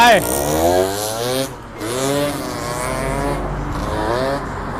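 A Yamaha RXS motorcycle engine revs up and falls back in repeated swells, fairly close, with a brief cut partway through and a steady idle toward the end.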